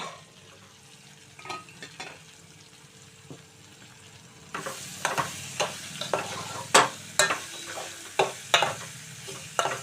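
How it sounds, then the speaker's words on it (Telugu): Ivy gourd pieces cook in a covered pan with a low sizzle that grows louder midway. Sharp, regular utensil clicks and taps against the pan punctuate the sizzle, and no one speaks. "దొండకాయ ముక్కలు మగ్గుతున్నాయండి చక్కగా"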